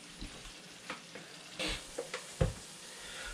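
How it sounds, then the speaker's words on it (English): Chopped onion sizzles in hot butter in a pan while cooking a sea bass dish. A low, quiet hiss runs under a series of sharper spatters and stirring clicks, with one louder crackle. "once my butter gets hot, I'm going to go ahead and put a half of that chopped up onion in there"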